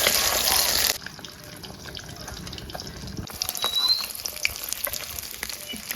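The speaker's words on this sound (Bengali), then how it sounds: "তেল গরম হয়ে গেছে, মাছগুলো ভেজে নিই।" Pieces of rohu-type fish frying in hot oil, a loud close sizzle for the first second that drops to a softer crackle with occasional pops, then swells again as the pan is worked.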